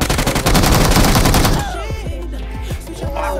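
Dense rapid automatic gunfire from PUBG Mobile during a competitive PMIC esports match, a loud sustained burst that breaks off partway, then game sounds and sweeping tonal effects continue.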